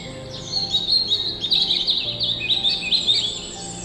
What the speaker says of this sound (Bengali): যেন অসংখ্য পাখির আওয়াজ একসঙ্গে মিশে গেছে।